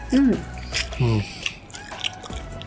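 Crunchy, sour pickled food is bitten and chewed in a Tokyo department store food hall, giving a few close crisp crunches at a slow irregular pace, with a voice briefly heard between them.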